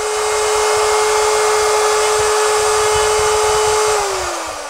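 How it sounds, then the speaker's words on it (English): A router cutting wood against a Brusso TJ-L37 offset pivot hinge template, a loud, close, steady high whine that holds level, then drops in pitch as the motor slows at the end. "Run your router in the right direction, go nice and slow, and don't round your corners."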